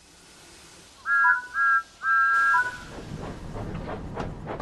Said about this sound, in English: Thomas blew his whistle and set off along the line